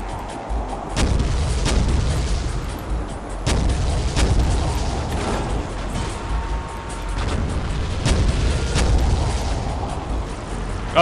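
Rocket blasts from a helicopter fight in the shooter game Soldier of Fortune: repeated booming explosions go off every second or two over a dense, rumbling battle din, loud and close.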